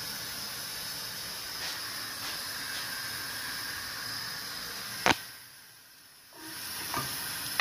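Chicken cooking in oil with onion over medium heat gives a steady, close hiss of frying. One sharp clink interrupts it, the sizzle dips briefly, then it resumes.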